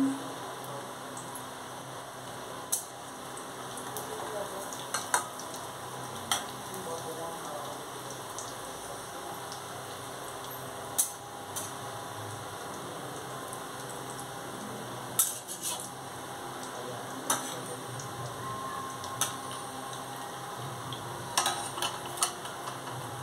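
Food fries in a pan over low heat with a steady, rain-like crackling sizzle, broken by occasional sharp clicks and scrapes of stirring, all fairly quiet and without talk.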